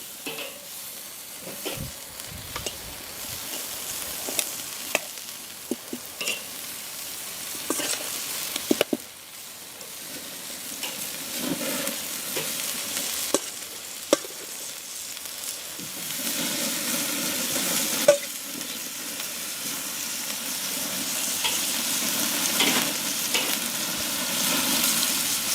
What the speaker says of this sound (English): I'm cooking these over direct heat